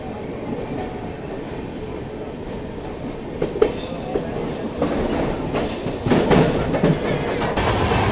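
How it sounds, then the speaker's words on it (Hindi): Shatabdi Express train passing right below, a steady close rumble of wheels and carriages with rhythmic clacking and rising bursts of rail noise throughout, no talking. "ये देखो इस तरफ शताब्दी एक्सप्रेस जो वो निकल रही है बिल्कुल नीचे से।"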